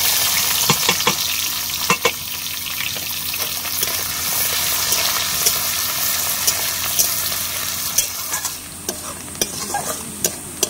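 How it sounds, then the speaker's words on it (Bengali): Whole cumin seeds and onion sizzle in hot oil in a pan, a steady close frying hiss broken by sharp clicks and scrapes of stirring, with no talk. "তেল গরম হয়ে গেছে, এবার আমি দিয়ে দেবো গোটা জিরে, দিয়ে দিচ্ছি পেঁয়াজ,"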